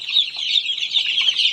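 Chickens cluck and call steadily on a chicken farm, a continuous close chorus of birds with no talk.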